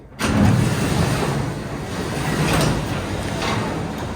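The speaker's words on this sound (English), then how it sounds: "The functioning garage door." A newly installed residential garage door rolling closed, a steady mechanical rumble with a low hum that starts abruptly and keeps running at an even level, with slight surges and rattles throughout.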